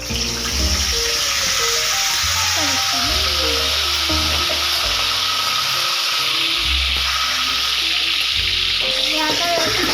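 Curry leaves sizzling in hot oil with asafoetida in a home kitchen, a steady loud frying hiss that runs throughout with faint background music or tones beneath it.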